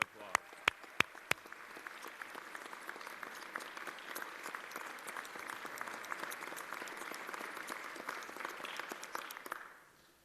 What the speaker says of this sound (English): Let's give Karen a big round of applause.